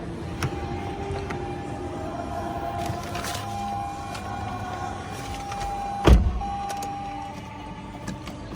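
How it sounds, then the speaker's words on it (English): Power windows on a 2020 Toyota Corolla Altis 1.6V glide shut with a steady electric motor whine inside the cabin, holding for several seconds before a soft thud as the glass seats, then the whir resumes faintly. "Shut off the windows."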